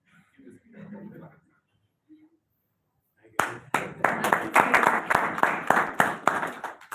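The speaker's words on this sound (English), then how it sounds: "Kindly give the speaker a clap." An audience at a Rotary talk on building social capital bursts into lively clapping after a brief spoken introduction, with sharp, close hand claps continuing steadily to the end.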